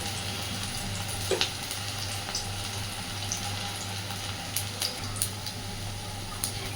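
Banana flower fritters crackling and sizzling in hot oil, a constant bubbling hiss with occasional sharper pops and a faint steady hum beneath.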